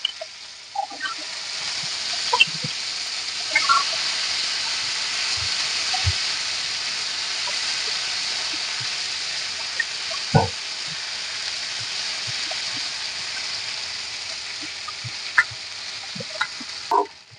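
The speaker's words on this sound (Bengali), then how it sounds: "মাছ ভাজার একই তেলেই আমি পেঁয়াজ দিয়ে দেবো" Sliced onions sizzle in hot oil left over from frying tuna, a steady close crackle with occasional louder pops and spatters, continuous throughout.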